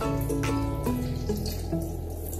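Warm milk is poured slowly into flour to make brioche dough, giving a continuous close trickling, splashing stream with no talking.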